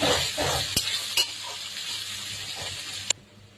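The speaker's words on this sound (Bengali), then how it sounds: "পেঁয়াজ দেওয়া হলো, পেঁয়াজটা একটু বাদামি কালার হয়ে যাবে তখন।" Onions fry in a pan for a dahi katla fish curry, crackling in a steady close sizzle broken by a few sharp clicks of a spatula against the pan.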